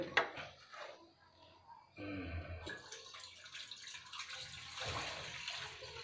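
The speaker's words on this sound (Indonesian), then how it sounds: "saya tuangkan ke sini air ya" Water poured into a container for watering plants, a steady splashing stream that starts abruptly and continues loud and close, with clattering handling sounds at the beginning.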